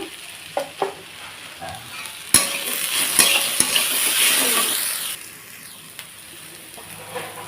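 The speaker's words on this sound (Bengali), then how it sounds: "একটু হলুদ গুঁড়ো দিয়ে ভালোভাবে নাড়াচাড়া করে নেব তো দিয়ে দিচ্ছি হলুদ গুঁড়ো" Turmeric powder stirred into fish frying in a pan, a steady loud sizzle with scraping stirs and a few clinks, swelling in the middle and easing toward the end.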